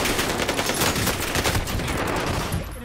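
Dense, continuous automatic gunfire from a first-person shooter video game, loud and sustained with overlapping rapid bursts, easing slightly at the end.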